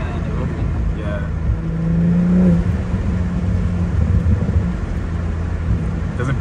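Deep exhaust rumble from a 2022 BMW M340i fitted with a custom single exit exhaust, swelling briefly as it accelerates, with people talking throughout.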